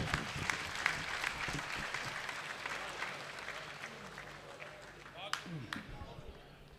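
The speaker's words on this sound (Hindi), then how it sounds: "मेरे साथ अपनी तालियों की गूंज शामिल कीजिए।" Audience at a mushaira poetry gathering claps in a lively, uneven round, with individual sharp claps standing out near the end and a few voices mixed in behind.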